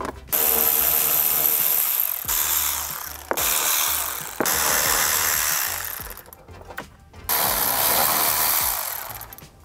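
A ratchet works loose 10mm bolts under a 2013–2016 Nissan Altima, with bursts of rapid clicking and grinding separated by short pauses, close and fairly loud with no talking.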